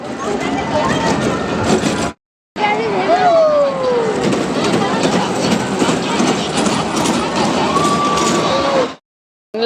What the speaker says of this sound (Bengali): ট্রেনটা ছাড়লো